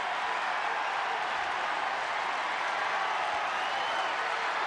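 A baseball stadium crowd of over 33,000 Oriole and Yankee fans roaring steadily during a Yankees–Orioles game, a dense, continuous wash of cheering heard from a distance with no distinct voices.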